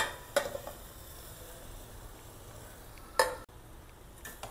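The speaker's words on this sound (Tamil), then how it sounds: "இது அப்படி நல்லா மிக்ஸ் பண்ணி விடுவோம்." A spoon scrapes and clinks in a pan of grated coconut and melting jaggery, with a couple of sharp metallic knocks and a soft sizzle underneath, fairly quiet and close.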